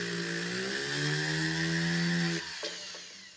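A rotary tool with a ball burr drills a small hole in a cast metal piece, a loud steady high whine that drops and stops near the end, with no talk.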